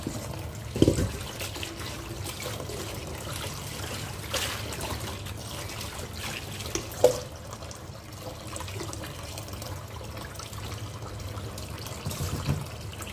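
Malabar spinach leaves are swished and rinsed in water, giving a soft continuous trickle and slosh with occasional louder splashes as the leaves are handled.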